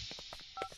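Touch-tone telephone dialing in an Indian film scene, a quick run of about eight short beeps in an uneven rhythm, fairly faint over a faint background hiss.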